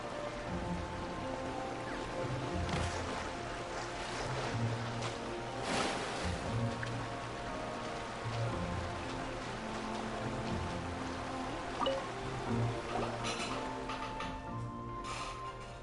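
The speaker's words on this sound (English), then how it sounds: "Hey, what are you doing under a waterfall?" A waterfall rushing in the video game Genshin Impact, a steady broadband wash of falling water running continuously throughout, with faint tonal game sounds layered above it.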